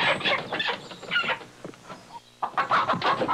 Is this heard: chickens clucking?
yes